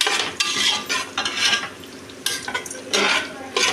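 Almonds and whole spices roasting in a pan for biryani, stirred with a spoon in repeated close scraping bursts over a light sizzle, no voices.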